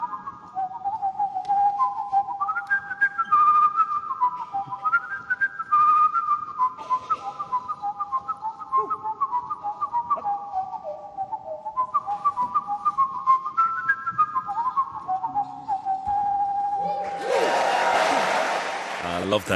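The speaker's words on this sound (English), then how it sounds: "He's also an expert whistler" A man whistles a lilting traditional Irish tune solo at a concert during Cavan Fleadh Cheoil, clear melodic phrases rising and falling over a quiet hall, ending as the audience breaks into applause.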